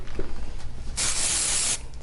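Pureology dry hair product is sprayed into a lifted section of hair in a steady hiss lasting nearly a second, close and fairly loud, with quiet room tone around it.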